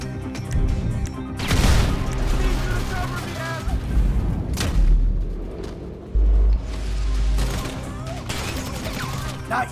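A frag grenade goes off in a GTA V shootout amid heavy gunfire. Loud booming bursts and rattling shots pile up over several seconds, with voices shouting under the din.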